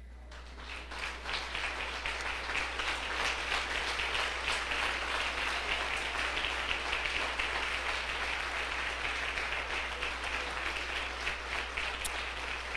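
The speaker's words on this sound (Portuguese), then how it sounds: "que tu aceites o aplauso que o teu povo vai te oferecer" A church congregation breaks into sustained applause after a prayer, a steady, fairly distant roar of many clapping hands that swells in the first second and holds evenly, with a low electrical hum underneath.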